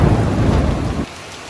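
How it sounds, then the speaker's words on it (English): Heavy rain pours down hard in a thunderstorm in Bali, with a loud, close rumble of thunder rolling under the dense rain hiss before it cuts off abruptly. "It thunderstormed."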